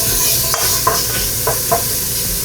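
Food sizzles and browns in a hot pan: a loud, constant frying hiss with several soft stirring scrapes spaced through it, and no voices.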